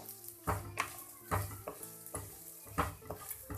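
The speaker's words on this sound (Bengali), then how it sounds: "এবারে এর মধ্যে আমি চিড়েগুলো দিয়ে দিলাম। দিয়ে এবারে আমি এটাকে ভাজতে থাকবো।" Flattened rice (chire) frying in hot oil is stirred in a pan, giving a quiet, uneven sizzle broken by repeated rhythmic scraping and clinking strokes.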